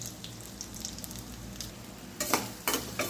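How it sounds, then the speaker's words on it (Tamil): Sliced medium onion sautéing in hot oil while making bitter gourd chukka, a steady close sizzle with a few louder bursts of crackle as the onion is stirred near the end. "வெங்காயம் நல்லா ஒரு பொன்னிறமாக வர்ற வரைக்கும் நல்லா வதக்கிக்கலாம்."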